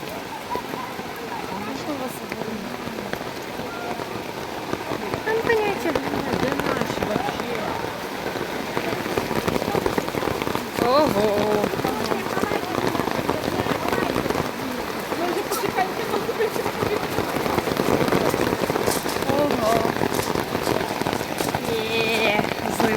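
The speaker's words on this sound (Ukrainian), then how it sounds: "Ух, як падає дощ." Heavy rain pours down steadily in the Carpathian mountains, a dense hiss of drops pattering on surfaces close by, unbroken throughout.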